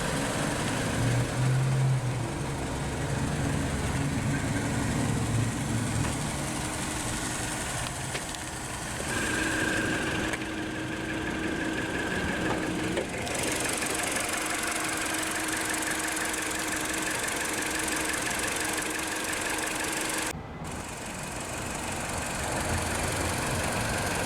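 A 2010 MINI Cooper hardtop's Prince 1.6-liter DOHC 16-valve naturally aspirated inline-4 with Valvetronic idles after start-up, giving a steady, close, even hum that runs unbroken throughout with no talking.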